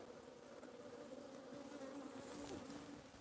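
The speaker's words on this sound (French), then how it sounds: "Faut pas avoir peur des abeilles." Bees swarm and buzz around a beehive, a steady, dense drone that holds close and continuous with no breaks.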